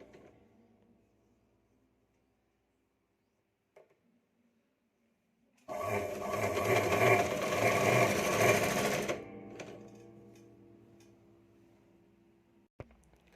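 A sewing machine runs steadily for about three seconds as it stitches a doubled strip onto a blouse, close and clear against an otherwise quiet room.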